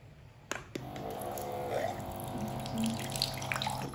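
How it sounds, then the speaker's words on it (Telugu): Water pours from a mineral water can dispenser into a glass, a soft continuous stream that starts after a couple of clicks and keeps trickling close by at low volume. "చాలా ఫాస్ట్ గా అయితే వాటర్ వచ్చేస్తుంది"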